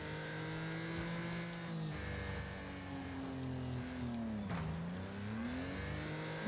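Racing cars in the Wreckfest video game roar through a steady engine drone with pitch sweeping up and down as they rev and shift, loud and continuous throughout with no talking.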